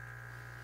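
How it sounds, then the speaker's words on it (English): A vacuum pump runs on a vacuum purge adapter as it draws air out into a side-mounted vacuum container, giving a steady electric hum with a fixed whining tone, brief and fairly quiet. "we'll go ahead and let the vacuum pump cycle off"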